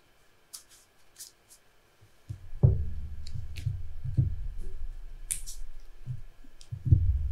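A deck of Flesh and Blood trading cards is shuffled, a run of soft, rapid riffling taps and clicks that starts after a few faint clicks, close and steady, with no voices.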